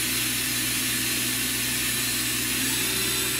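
A Walter Helitronic Mini Power CNC tool cutter grinder spindle spins steadily at speed, giving a constant hum with fixed tones and a slight shift in pitch near the end, no voices.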